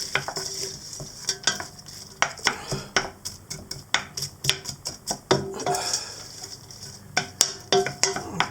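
A spoon stirs a garlic and onion mushroom soup base sweating in a pot, giving repeated scraping clinks at an uneven rhythm over a faint sizzle, close and moderately loud, with no talking.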